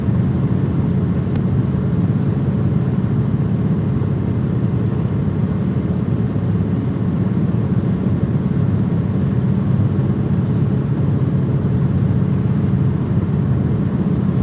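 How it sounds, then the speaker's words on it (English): Gas blow-off flare burning outdoors near Midland and Lubbock, Texas, a loud, continuous broadband roar and rumble holding steady throughout without breaks or talk. "They're doing a blow-off over here with gas."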